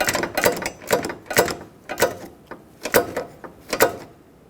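A ratchet snugs down hood hinge bolts on a 2011-2016 Ford F-350 in quick bursts of sharp clicking, with roughly eight close, distinct pulses and brief pauses between them.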